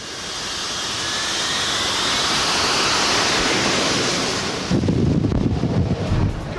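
A Sea Harrier jet takes off from a ship's small deck: a loud, broad roaring rush of jet noise builds steadily, then turns to a rough, buffeting rumble as wind batters the microphone.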